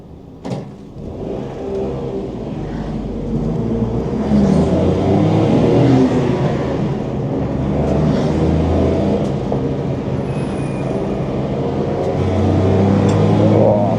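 A Citroen C1 race car with no power steering pulls flat out of the pit lane through turn one, its small engine droning and revving steadily from inside the cabin with a rising, sustained rumble.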